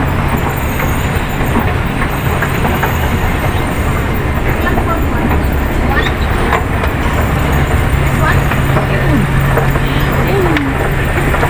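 A loud, continuous rumble of a train running close by at a station near Circular Quay, Sydney, with rattling and clanking throughout and a faint squeal near the end.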